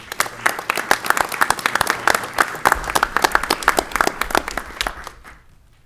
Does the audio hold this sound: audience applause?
yes